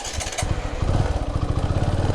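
A motorcycle engine idles nearby with a steady, rhythmic low thumping putter as the bike is being parked, heard alone without talk.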